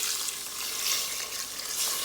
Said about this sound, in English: So to make the meat soft, I'm going to add some hot water